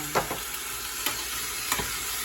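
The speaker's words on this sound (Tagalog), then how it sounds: "Haluin natin. Para lumasa ang gata." Banana heart simmering in coconut milk in a pan, a bright steady sizzle-like hiss with a few short scrape and clink accents as it is stirred, close, without speech.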